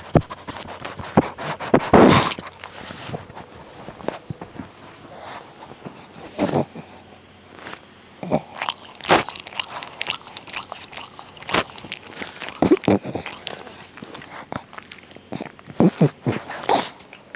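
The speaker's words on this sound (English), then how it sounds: "That's the sound of Tokyo licking his leg." Wet, close-up licking and soft chewing sounds from a dog licking its leg, irregular smacks and slurps with occasional snorts, no talking.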